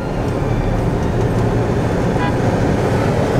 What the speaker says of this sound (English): we got somebody honking at us